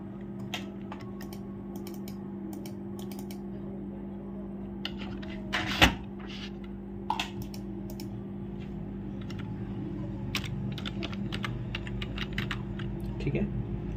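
Keys clatter on a computer keyboard in uneven bursts of clicks over a steady electrical hum, fairly close and moderately quiet, with one louder clack partway through.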